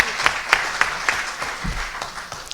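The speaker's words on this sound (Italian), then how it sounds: "un grande applauso a tutti voi" An audience at a Rotary Foundation national seminar applauding, a moderate patter of scattered claps with a few sharper individual hits, steady over a couple of seconds.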